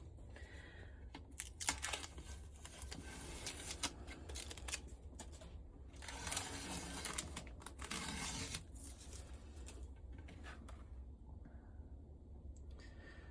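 Protective film peeled off an acrylic painting of birds, a long crinkling, tearing rustle in close, uneven bursts that swell in the middle, over a steady low hum from a nearby heater.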